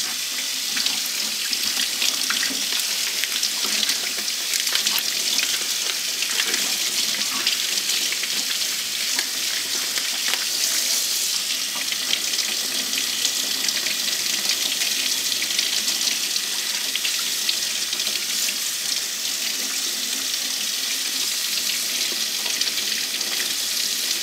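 Water runs steadily from a kitchen tap into a sink, a continuous close hiss and splash with no pauses and no voices, while the flow is set to lukewarm for soaking vinyl off an etched picture frame.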